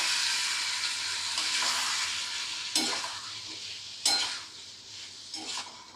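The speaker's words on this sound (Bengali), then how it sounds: "দিয়ে দিচ্ছি পোস্ত বাটাটা।" Poppy seed paste goes into a pan of cooking aloo posto with prawns and is stirred, giving a steady sizzle with a few sharp utensil scrapes and clinks against the pan.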